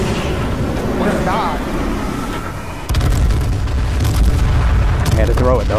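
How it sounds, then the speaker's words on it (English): Airstrike explosions in the battle-royale game H1Z1 land as heavy, loud booms in a sustained roar, with excited players talking over the blasts. "I took all the fools with the airstrike."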